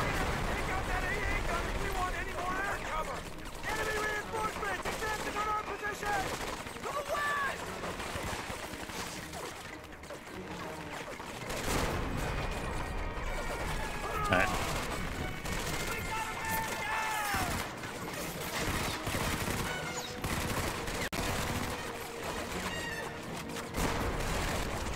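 Battlefield gunfire in Medal of Honor: Vanguard, with scattered shots and bursts over a dense, noisy game mix while someone talks throughout.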